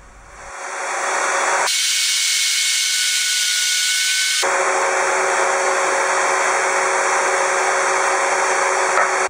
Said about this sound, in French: Pour le dernier côté, passage à la scie sur table.